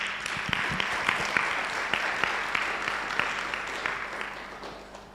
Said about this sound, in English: Let's clap hands for Rutendo.